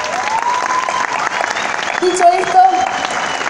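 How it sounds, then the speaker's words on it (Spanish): Applause from a Carnaval 2018 audience in Montevideo, steady crowd clapping at moderate volume while a voice speaks briefly over it. "Y yo creo que esto merece un aplauso."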